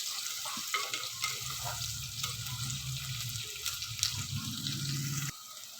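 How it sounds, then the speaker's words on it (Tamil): Onions sautéing in oil in a clay pot, a steady close crackling sizzle with occasional scrapes and stirring knocks, cut off abruptly near the end; no one talks. "வெங்காயத்தை போட்டு வதக்கணும்."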